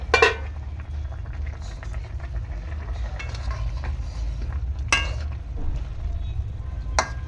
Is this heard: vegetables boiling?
yes